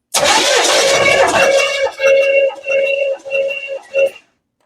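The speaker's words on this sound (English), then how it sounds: "got my starter trigger, and let's see what the compression is" Big Block Chevy V8 in a Monte Carlo street and race car cranking on the starter for a compression test, a loud near whirring crank with a steady rhythmic chug that breaks into four short bursts before stopping.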